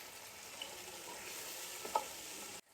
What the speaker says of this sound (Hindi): अब इसे मिक्स करेंगे, अच्छे से इसकी भुनाई करेंगे